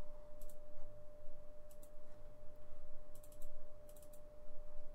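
Soft clicks from a computer keyboard come in a few quick clusters of keystrokes, faint and close over a steady background hum, with no one talking.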